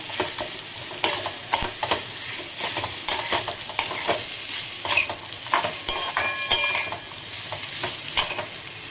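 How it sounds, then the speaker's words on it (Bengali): Potato samosa filling stirred in a hot pan, a spoon scraping and clacking in steady irregular strokes over a soft continuous sizzle, close and fairly loud, no voices. "এবারে আমি ভালোভাবে এটাকে মিলিয়ে নেব।"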